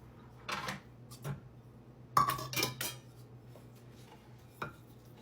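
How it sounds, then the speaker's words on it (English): A spoon scrapes and clinks against a bowl while margarine and brown sugar are creamed for bran muffins, a few separate bursts of clatter over a quiet room hum, with no voices. "I'll just mix them until they're all creamed together"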